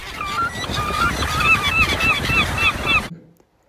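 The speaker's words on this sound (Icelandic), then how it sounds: "Gargið í mávinum" Gulls calling over the sea, a flock of harsh, repeated squawking cries layered together over wind and background noise, cutting off abruptly into silence.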